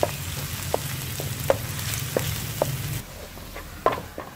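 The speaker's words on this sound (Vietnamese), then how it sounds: "Cho hết hành tỏi băm còn lại. Cái mình bật lửa vừa thôi, phi thơm cái hỗn hợp này lên." Minced shallots and garlic fry in three spoonfuls of cooking oil over medium heat, giving a steady close sizzle with periodic utensil taps against the pan, and no voices.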